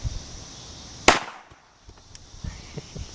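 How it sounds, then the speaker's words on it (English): A single sharp gunshot from a Glock 22 Gen 4 .40 caliber handgun fired into dirt outdoors, one loud crack with a brief decay, followed by faint small knocks. "We're just gonna shoot into the dirt, see what kind of noise that we have."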